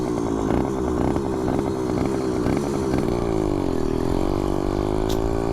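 Small engine of a motorized bicycle running steadily on the road, a loud, raspy buzzing drone that wavers slightly in pitch as it rides, close up with no clear talk.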